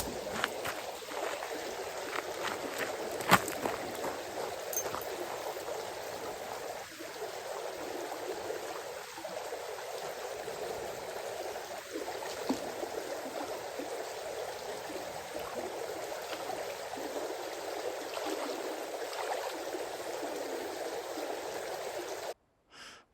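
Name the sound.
river stream flowing in Oregon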